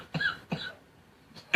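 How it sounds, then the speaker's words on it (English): A man coughs twice in quick, harsh bursts close to the microphone, followed by a short pause and the start of another cough. "And I cough a lot"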